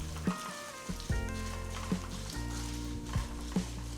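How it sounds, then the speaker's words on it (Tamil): Mustard seeds and cumin spluttering in hot ghee, a busy sizzle broken by sharp pops and crackles every half second or so, close and fairly quiet, with no one talking. "1 டீஸ்பூன் கடுகு, 1 டீஸ்பூன் சீரகம் சேர்த்து லேசாக பொரிய விடுங்க"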